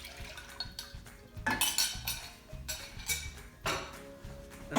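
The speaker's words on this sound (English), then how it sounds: "pour the heavy cream inside" Heavy cream pouring into a metal pot on a kitchen stove, with soft liquid splashes mixed with scattered clinks and knocks of cookware, close and moderately loud, no talking.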